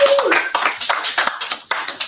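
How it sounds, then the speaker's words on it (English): A small studio audience claps for Eddie Doyle at a red-couch interview, a short, close burst of fairly sparse hand claps with distinct individual slaps. "Let's give him a round of applause."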